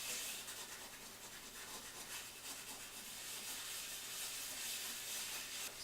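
A stainless steel scrubber worked back and forth inside an oven, a steady, continuous rasping scrub with a faint hiss, fairly close and without a break.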